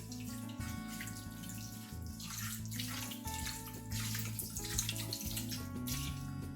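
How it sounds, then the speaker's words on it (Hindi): Water poured from a tap into a pot of lamb neck curry, a steady soft splashing stream with faint gurgles, heard close and alone at low level over a constant hum. "ये थोड़ा सा हम पानी डालेंगे इसके अंदर।"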